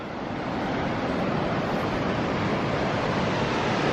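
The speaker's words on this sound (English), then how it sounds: "I can hear the waterfall again now." Waterfall at Corrieshalloch Gorge in the Scottish Highlands, heard from a viewing platform high above the drop: a steady, broadband rushing roar, fairly soft and distant, mixed with some wind buffeting on the microphone.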